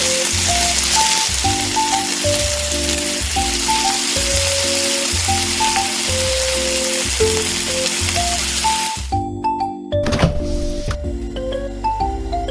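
Rosemary frying in butter in a tiny miniature pan, a steady broadband sizzle running close and continuous under light background music, then briefly thinning out with a few clicks near the end.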